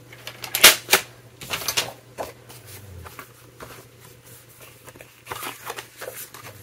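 Paper being cut for a scrapbook album, with several sharp snips and rustling bursts at irregular intervals over a faint steady hum, close and fairly loud, no talking.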